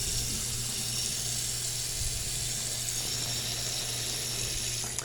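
A hotel bathroom sink faucet runs steadily, a continuous hissing rush of water at constant volume with no voices.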